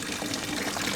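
Water runs steadily into an ice sledding hill being built outdoors in freezing weather, a soft continuous splashing rush heard faintly and alone.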